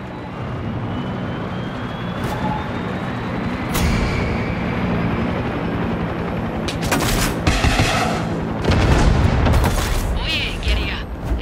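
Gunfire in the video game Far Cry 6, with a steady rumble beneath and bursts of rapid shots and loud booms that grow denser toward the end; voices talk over parts of it.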